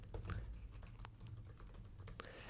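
Close, quiet clatter of fingers on a computer keyboard as a domain name is typed, irregular keystrokes coming in quick bursts with no talking.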